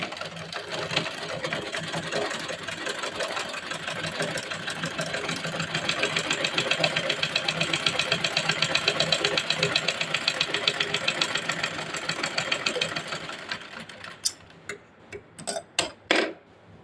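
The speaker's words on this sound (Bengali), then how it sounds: "এখন আমরা এভাবে এই পাশের অংশটাও সেলাই করে নেব" A sewing machine runs in a fast, steady mechanical chatter while stitching the side seam of a child's underwear, closing with a few separate stops and short bursts of stitching near the end.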